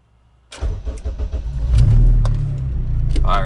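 A car engine with a Skunk2 MegaPower RR exhaust cranks and catches after a short silence, then settles into a loud, steady idle close by.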